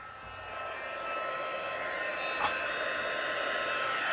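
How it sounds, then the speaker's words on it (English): A heat gun blows steadily over a scratch-and-sniff card being crafted with embossing powder, a smooth, even whooshing hum that continues throughout at moderate volume. "then I'm gonna take my heat gun and kind of warm it up for a little minute"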